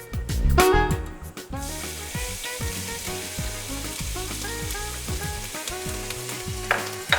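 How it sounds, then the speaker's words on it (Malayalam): Ginger and garlic fry in oil with cardamom, cinnamon and cloves for a Kerala-style duck mappas, giving a loud, close crackling sizzle with a clattering stir at the start. "ഇനി നമുക്ക് ജിഞ്ചർ ഗാർലിക് ഇട്ട് കൊടുക്കാം."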